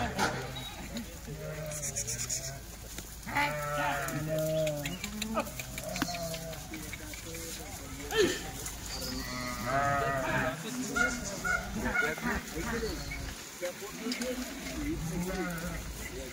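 Kathiawari sheep and goats bleating repeatedly in a farm setting, several overlapping calls rising and falling under steady talk from people nearby, with occasional bird or rooster sounds in the background.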